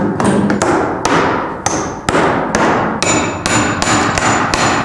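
Loose nails are hammered out of dry-rotted ceiling wood in an old mansion kitchen, about a dozen loud, close, ringing blows at an uneven pace, each trailing off with reverberation.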